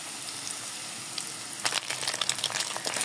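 Two eggs frying in a pan for a quick meal, a faint low sizzle at first that swells into louder crackling and spitting midway and keeps going to the end.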